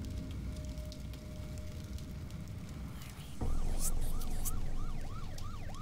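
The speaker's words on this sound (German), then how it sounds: "Rettungswagen." An ambulance siren wails in the horror game Nightmare House, a Half-Life mod. It bursts in loudly partway through and keeps a steady rising-and-falling wail over dark ambient background noise, with no talking.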